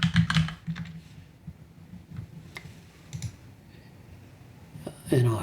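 Someone types on a computer keyboard with a few soft, quick clicks in a short burst, then sparse taps, close and faint against a quiet room.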